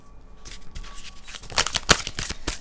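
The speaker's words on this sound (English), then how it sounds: "but I'm going to give them a real good shuffle again." Oracle cards being shuffled by hand, giving a few seconds of quick papery riffling and flicking that grows busier and louder toward the end, close up with no talking.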